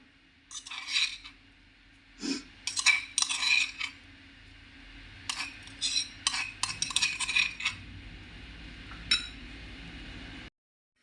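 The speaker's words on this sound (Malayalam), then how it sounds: "ടീസ്പൂൺ വെച്ച് നല്ല രീതിയിലൊന്ന് മിക്സ് ചെയ്തെടുക്കുക" A teaspoon stirs crushed chili and curry leaves in a bowl, tapping and clinking against the sides in repeated bright bursts over a low steady hum.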